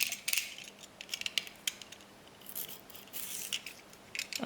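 Metal shears cut a piece of material with faint, scattered snips and clicks over a quiet background.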